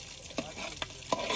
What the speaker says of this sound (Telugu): ఇప్పుడైతే ఫ్రైడ్ రైస్ అయితే చేస్తున్నాం పిల్లలందరి కోసం వేడివేడిగా మంచిగా